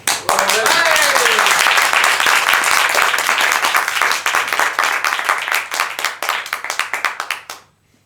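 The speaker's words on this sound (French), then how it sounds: "je vous demande d'accueillir et d'applaudir chaleureusement, même très chaleureusement, Aurel." An improv festival audience in Paris claps loudly and steadily, with whoops over it at the start, before the applause thins out and stops.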